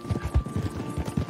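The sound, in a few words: horse hooves clip-clopping in a video game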